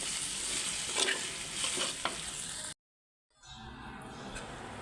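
Okra frying in a pan with onion, green chili and a little turmeric gives a steady, close sizzle with stirring scrapes. It cuts to near silence briefly, then the hiss returns a bit softer.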